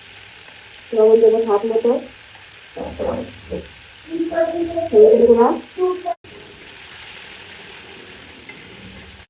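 Chicken skin cooks in a pan with a spice paste of dried red chili and salt, giving a low, steady sizzle beneath a person talking, with the sizzle continuing alone at the end.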